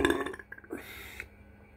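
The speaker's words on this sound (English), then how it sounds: "Good burps." A single loud, throaty burp after a drink of Coke Zero Energy, strong at first and then trailing off into quiet.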